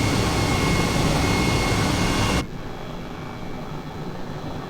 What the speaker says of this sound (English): I can't believe I'm flying a helicopter.